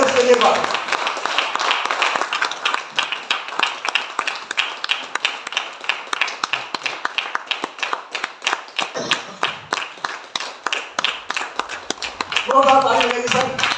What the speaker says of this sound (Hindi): और जोरदार ताली सभी मैनेजर के लिए एक बार।